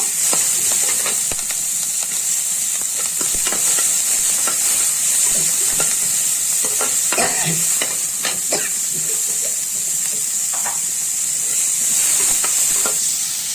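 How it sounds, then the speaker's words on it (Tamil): Green and dried chillies, onion and curry leaves sautéing in a hot pan, a constant bright sizzle with frequent stirring clicks and scrapes, close and loud throughout. "இதில் கருவேப்பிலை எல்லாத்தையும் வதக்கிக்கலாம்"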